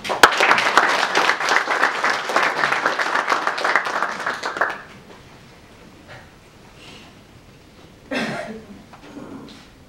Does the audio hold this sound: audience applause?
yes